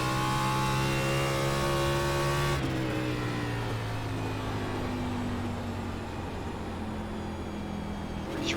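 Simulated NASCAR Class B race car engine in iRacing at New Hampshire, a loud steady mid-pitched drone that drops in pitch partway through as the car lifts off the throttle, continuous and alone with no talk.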